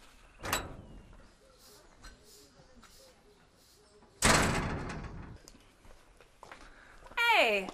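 A door opens onto members of a Rwandan professional cycling team. A sharp knock or thud is followed later by a loud sliding rush, with quiet voices and scattered movement around it.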